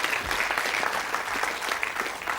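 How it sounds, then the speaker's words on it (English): Studio audience on a TV quiz show breaking into a round of applause, dense steady clapping that fills the whole short stretch at close range. "back to your seat with another round of applause"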